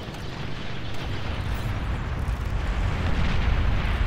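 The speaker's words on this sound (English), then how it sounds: "That was a big explosion." A big explosion in the real-time strategy game Beyond All Reason sounds as a long, loud, rumbling roar that swells and holds steady for several seconds.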